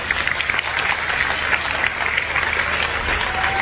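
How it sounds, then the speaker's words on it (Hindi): An audience at a Hindi religious discourse clapping loudly and continuously, a dense sustained wall of applause close to the microphone. "आप ताली बजाते हो"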